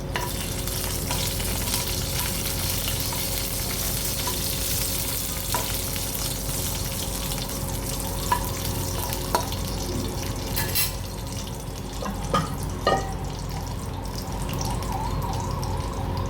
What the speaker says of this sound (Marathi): तेजपत्त्याची काळी 2-3 पानं, पाव चमचा शहा जिरं. हे तेलावर घालून परतून घेऊ.